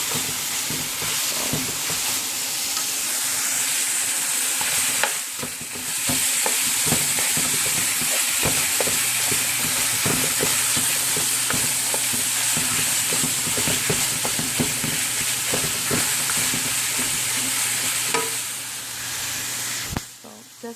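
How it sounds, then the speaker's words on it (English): Ground pork with garlic stir-frying in a pan for a basil dish, with a loud continuous sizzle and hiss broken by frequent spatula scrapes and taps, dipping briefly near the start and again at the end. "Just let it cook, stir fry for a while until both sides, all the meat are brown or it looks fully cooked."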